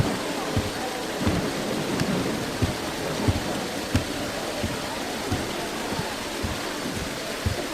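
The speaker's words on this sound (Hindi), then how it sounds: "तुम तो बारिश को देखो" Steady heavy rain pours down in a film scene, a dense constant hiss broken by repeated low thumps and rumbles of thunder throughout.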